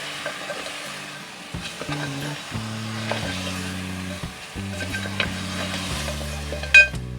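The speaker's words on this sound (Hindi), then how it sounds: "अब मैं इसमें डालती हूँ ये पाए की बोटियाँ। आंच मैंने बिल्कुल दरमियानी सी की हुई है। इसको मैं भून लेती हूँ।" Pieces of beef trotter (paya) fry in masala over medium heat, with soft sizzling under steady stirring, low humming tones in the background and a sharp clink of a utensil near the end.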